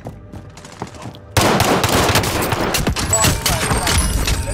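Dense bursts of gunfire in the Call of Duty: Modern Warfare Rebirth Island mode kick in abruptly after a quiet opening, then continue as loud, rapid, overlapping shots with sharp individual cracks.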